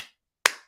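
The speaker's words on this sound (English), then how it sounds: "Slow clap." A slow clap: one sharp, close hand clap ringing out alone in silence, just after the fading tail of an earlier clap.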